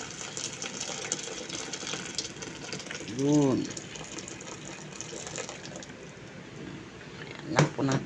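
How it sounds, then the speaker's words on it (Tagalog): Hot water poured into a cooking pan holding sotanghon glass noodles with bitter melon, tofu and pork, a steady gushing fill under a woman's speech, with a brief louder splash near the end. "Yan po natin ang tubig na mainit"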